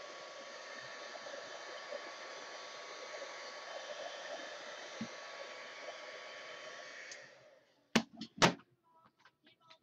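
A heat tool blows steadily over a mixed media art journal page for about seven seconds, a broad even whoosh that cuts off, followed by a few sharp knocks and clatters as it is set down.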